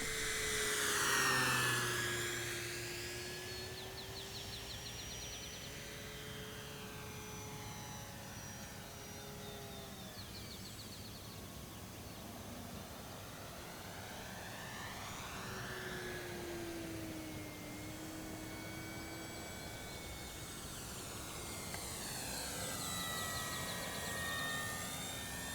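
A DuraFly foam RC Supermarine Spitfire Mk2a with a 1100 mm wingspan makes repeated flybys, its electric motor whine rising and falling in pitch as it sweeps near and away, with a steady breeze underneath.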